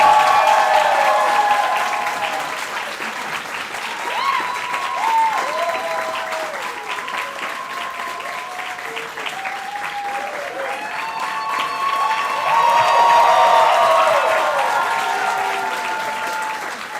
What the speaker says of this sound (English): let's give a big round of applause for all the people that have worked for this organization